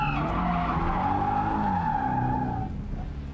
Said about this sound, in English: Okay, so that's a handbrake turn, essentially.